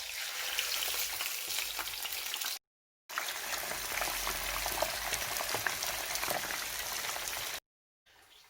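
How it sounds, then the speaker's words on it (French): Marinated fish, scored with small cuts, fries gently in hot oil, giving a steady crackling sizzle that is close and fairly loud, broken by two brief silent gaps, with no talking. "Mon poisson il est en train de frire tranquillement"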